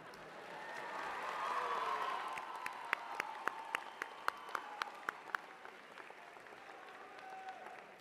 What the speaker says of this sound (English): You need to give a big round of applause for Lowell